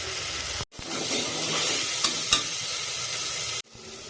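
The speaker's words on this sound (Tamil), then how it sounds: "இப்போ நம்ம இஞ்சி பூண்டு வதக்கிட்டு இருக்கோம்." Ginger and garlic sizzle and fry in a pan, a bright continuous crackle with a few sharp pops and stirring scrapes, cutting off abruptly twice.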